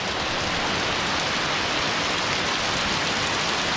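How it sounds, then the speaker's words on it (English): Heavy rain pours down steadily outside a trail shelter near the Tye River, a dense, constant hiss with no pauses and no voices. "It's just pouring down rain."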